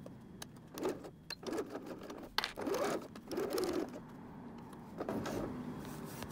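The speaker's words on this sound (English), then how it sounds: "we're going to put the zipper foot on, and we'll be sewing across the top edge with about a 1/4 inch seam allowance" A sewing machine fitted with a zipper foot stitches across the top edge of a cork pencil case in short, fairly faint bursts of whirring separated by pauses.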